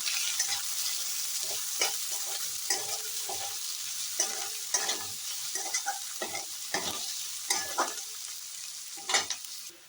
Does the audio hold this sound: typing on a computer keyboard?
no